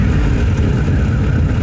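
A Moto Guzzi V7 Stone motorcycle engine runs close by, a loud, steady, throaty low rumble with a dense, even pulse and no voices.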